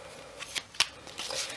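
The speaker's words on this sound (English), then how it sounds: "We will begin with some shuffling." Large tarot cards being shuffled by hand: a series of crisp papery riffles and snaps, close and fairly quiet, with a longer riffle near the end and no speech.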